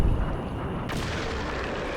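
A gunshot in the video game Singularity lands as a heavy boom at the start, followed by a loud, rumbling sustained wash of noise with no speech.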